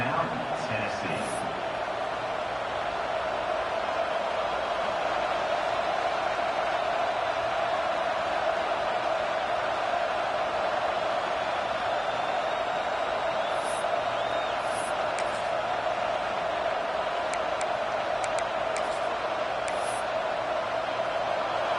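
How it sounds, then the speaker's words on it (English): A football stadium crowd roars steadily during a Tennessee at Oregon game as the field goal unit comes out on fourth down. Occasional whistles and whoops cut through the broad, continuous din. "This crowd trying to do its part to get inside the kicker's head."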